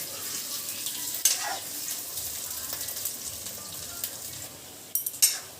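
Potatoes frying in oil are gently stirred with a spoon, giving a steady broad sizzle with a few brief scraping clicks near the start and again toward the end.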